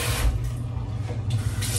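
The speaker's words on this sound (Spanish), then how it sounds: "a echarle agua fría para que no se pegue" Cold water poured from a tap over strained pasta in a home kitchen, a steady close splashing rush that runs through the whole short moment with no talk.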